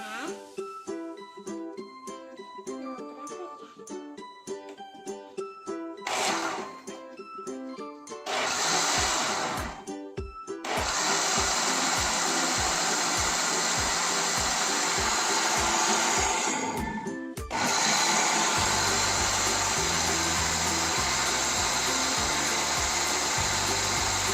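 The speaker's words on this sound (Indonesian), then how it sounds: "Nah, setelah itu kita blender ya." A kitchen blender whirs through soybeans for soy milk, a loud steady motor drone that starts and stops in bursts after a stretch of music, with choppy grinding pulses in between.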